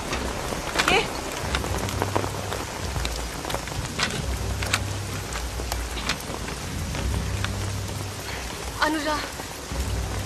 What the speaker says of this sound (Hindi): इतनी बारिश में नहीं जा पाएंगे,